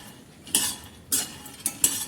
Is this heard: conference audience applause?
no